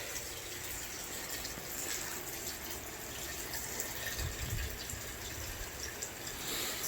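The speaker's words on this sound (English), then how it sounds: "I'm going to fill up that water insert." Water from a tap or hose pours steadily into the water insert of a fig tree pot, a continuous broadband gush with a brief louder swell midway, close and alone without talk.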